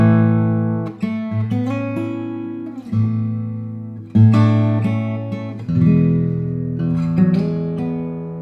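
Guitar strums a chord progression with an added suspended fourth on each chord, sustained ringing chords alone with no talking.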